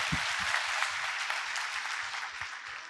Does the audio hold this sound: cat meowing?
no